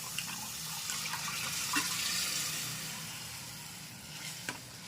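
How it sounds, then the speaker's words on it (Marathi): Water pouring into a simmering pot of cooked dal with coconut masala, a steady hiss and gentle bubbling with a couple of faint clinks. "हवं तेवढं पाणी घाला."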